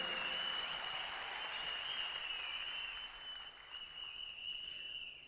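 Audience applause for the team and management at a leadership training seminar, a sustained burst of clapping that holds steady and then eases slightly toward the end, with no talk over it.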